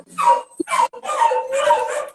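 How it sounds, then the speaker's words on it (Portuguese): Dogs bark and yelp up close in a short burst of a few excited calls with a whimpering edge, loud and clear with no speech. "Estão latindo aqui."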